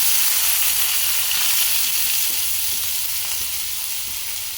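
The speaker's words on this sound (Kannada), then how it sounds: "ಎಣ್ಣೆ ಕಾದಿದೆ ಅದಕ್ಕೆ ಈರುಳ್ಳಿ" Chopped onions hit hot oil in a pan and produce a loud, steady frying hiss that fades slightly toward the end.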